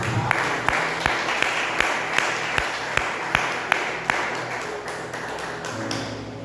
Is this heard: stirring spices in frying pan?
no